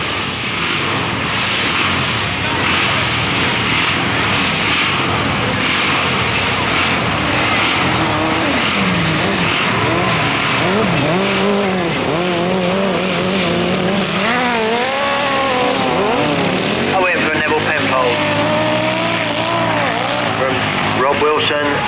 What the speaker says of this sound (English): FZR through its paces there as they go down the back straight